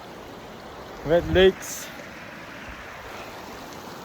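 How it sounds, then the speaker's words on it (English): Mountain river stream on the Kashmir Great Lakes trek, a steady broadband rush of flowing water close by, with a person speaking briefly over it. "I just crossed the river."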